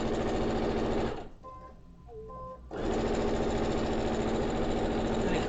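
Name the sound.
sewing machine stitching quilt fabric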